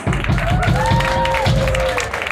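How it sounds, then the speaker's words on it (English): Applause from an audience at a Black punk fest swells into a continuous wash of clapping, with a voice holding a tone and sustained noise over it for a couple of seconds. "Give yourselves a round of applause."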